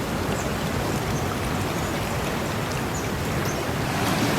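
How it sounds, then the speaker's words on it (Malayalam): Heavy, steady rush of water pouring out through the opened shutters of Neyyar Dam, a dense continuous roar that fills the scene from start to finish with no voices. "അവിടെ വെള്ളം തുറന്നിട്ടേക്കുന്നു. അവിടെ നിന്ന് ഇങ്ങനെ ഒഴുകിയായിരുന്നു."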